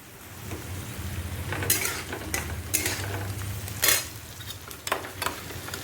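Lentils and fried food cooking in a pan: a steady sizzle runs throughout, with repeated clinks and scrapes of stirring against the pan, close up and with no voices.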